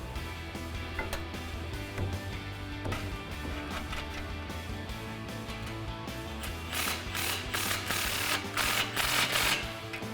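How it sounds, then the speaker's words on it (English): Ratchet with a 16mm socket snugging an exhaust clamp on a RAM 1500 dual exhaust system, rapid clicking pawl strokes in bursts over steady mechanical background noise, close up, no talking. "we'll go ahead and snug up our clamp, again using our 16mm socket"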